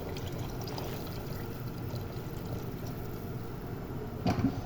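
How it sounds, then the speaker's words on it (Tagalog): Water pours steadily into a pan for cooking mung beans, a continuous splashing rush at an even level with a brief louder splash near the end. "damihan lang natin ang tubig."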